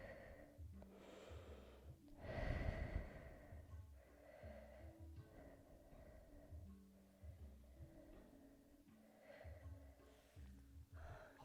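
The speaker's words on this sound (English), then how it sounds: "And breathe deep." Slow, deep breaths drawn in and pushed out through the nose during a full-body yoga flow, soft and close, several long inhale-exhale cycles with no talking.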